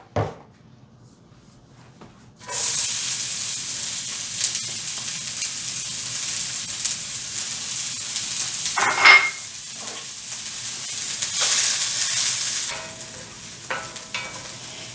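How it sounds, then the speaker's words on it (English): Onions sauté in olive oil, a bright sizzle bursting in after a quiet start and hissing steadily, with occasional stirring clatters and a louder pan knock midway before the frying settles down. "Now we'll add a little bit of olive oil and saute the onions."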